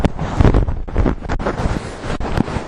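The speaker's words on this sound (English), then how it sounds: "A little windy today." Loud, gusting wind buffets the microphone on a Stewart Island coast, a rough, continuous roar that rises and falls.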